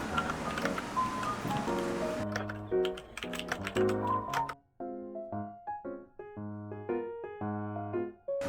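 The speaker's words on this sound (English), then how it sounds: "I also included some typing so you guys can hear how it sounds" Fingers type on a keyboard with brown Cherry switches and pastel anime keycaps, a run of quick clacks heard close, with soft melodic music playing alongside.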